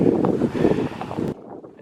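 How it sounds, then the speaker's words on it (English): Wind blows in Walker Woods near New Hamburg, Ontario, in winter, heard as loud, gusty buffeting on the microphone that cuts off abruptly near the end. "I know it's windy out here today"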